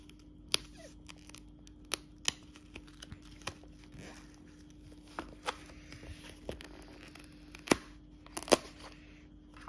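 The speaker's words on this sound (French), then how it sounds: "Allez, on se le déballe." Unwrapping a collector's ultra-premium 4K movie box set: quiet, close crinkling and plastic film tearing with scattered sharp clicks and snips, irregular bursts over a faint steady hum.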